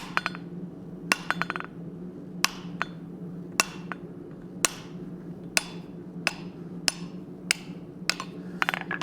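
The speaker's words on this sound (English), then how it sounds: "That's also why I'm using this soft face hammer on this piece." A soft face hammer strikes a hot cut hardy at a blacksmith's anvil, giving about a dozen sharp, ringing metallic blows at an uneven pace, close and clear over a low background hum.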